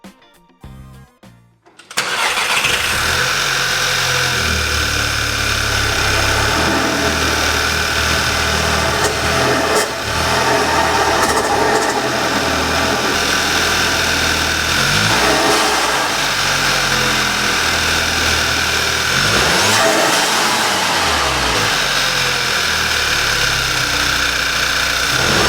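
A Volkswagen MK6 GTI fitted with a COBB Big SF intake cranks and starts after a short moment, then idles loudly and close, with several sharp blips of throttle revving rising and falling over the steady engine drone.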